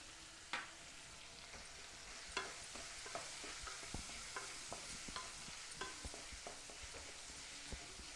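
Chopped onions frying in a pan for a cauliflower gravy, with a soft steady sizzle and faint scraping stirs that tap and clink at irregular moments, quiet and close with no talking.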